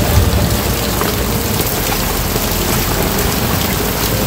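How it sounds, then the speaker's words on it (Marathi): Heavy rain pours down, a loud, dense, continuous hiss of drops on surfaces, close and steady with no talking. "फुल पाऊस तेव्हा."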